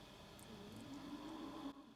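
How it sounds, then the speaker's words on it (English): Cows mooing outside a window, a low drawn-out moo heard faintly from a distance over a steady background hum, with no voices. "we've got moo cows and donkeys outside our window. Making some noise."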